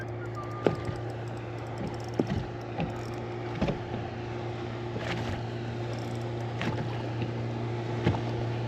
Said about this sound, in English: We got boats cruising all over the place.